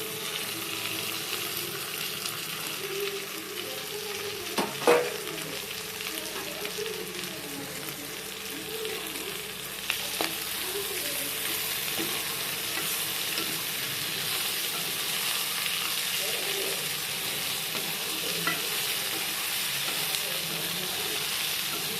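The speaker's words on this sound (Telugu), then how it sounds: "మనం సపరేట్ చేసి పెట్టుకున్న వంకాయని ఇందులో మళ్ళీ వేసేయాలి" Eggplant sizzling steadily in hot oil in a pan for village-style vankaya fry, with occasional stirring clatters over the constant crackle, close and with no talk.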